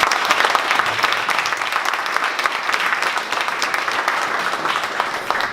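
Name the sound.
audience applause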